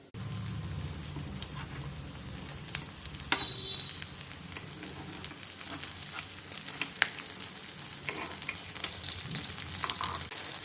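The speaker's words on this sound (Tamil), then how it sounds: "மூடி போட்டு மீடியம் ஃப்ளேமில் அது குக் ஆகட்டும்." Batter in a covered pan over a medium flame sizzles and crackles continuously, a close, steady frying hiss with a few sharp pops and no talking.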